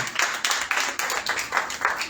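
A church congregation claps hands together during a service, a steady run of fairly close, brisk claps with rhythmic swells that carry through the whole stretch.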